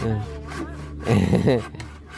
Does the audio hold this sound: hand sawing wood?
yes